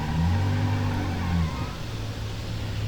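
Mitsubishi Lancer engine in the BeamNG driving game, a steady droning hum with rising and falling tonal whine, loud and continuous throughout with a brief pitch shift midway.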